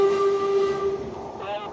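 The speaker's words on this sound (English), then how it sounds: "the train full of Arsenal fans pulls in." A London Underground tube train pulls into a platform, with a sustained high whistling tone and hissing rail noise that fade as it slows, loud and close.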